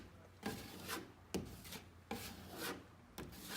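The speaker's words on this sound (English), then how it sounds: "Then we'll take our 6-inch putty knife, scoop up some of the joint compound, and we're going to work it into the hole," A 6-inch putty knife spreads joint compound into a hole over a drywall plug, giving a quiet rhythmic scraping, about four strokes worked back and forth, close up with no talk.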